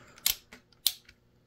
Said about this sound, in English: Blinkers,